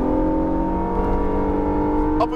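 Acura NSX engine on a track, revving hard at full throttle through an upshift, a loud steady harmonic whine climbing under continuous drive with no pause in power.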